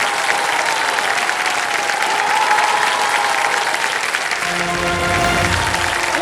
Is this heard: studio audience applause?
yes